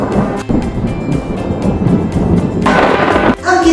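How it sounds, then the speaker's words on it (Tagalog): A heavy, continuous thunder rumble rolls loud and close during a lightning storm, swelling into a brighter crack near the end. "Kadalasan sinasabayan ito ng malakas na tunog na tinatawag nating kulog o thunder."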